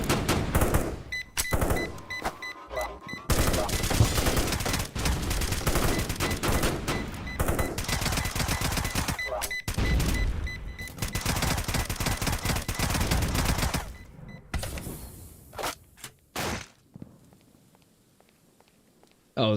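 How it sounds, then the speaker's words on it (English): Bursts of rapid gunfire in a first-person shooter video game with bots, shots coming through a wall, dense and loud for most of the stretch before thinning to a few scattered shots and near silence at the end. "Someone's taking pot shots at me through the wall."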